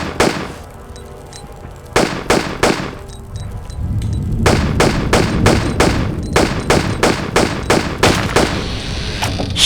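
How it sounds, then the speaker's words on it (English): Gunshots fired at a lock in a Tomb Raider custom level set in the streets of Rome, a series of sharp loud bangs, first spaced apart and then coming in a fast irregular burst over a low rumble. "Shoot the lock"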